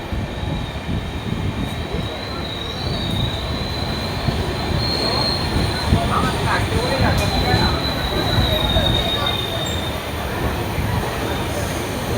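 A Howrah–Digha Tamralipta Express rolls through Uluberia station with a sustained high metallic wheel squeal over a steady rumble of carriages on the rails, loud and continuous throughout.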